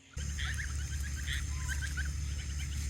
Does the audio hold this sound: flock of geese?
yes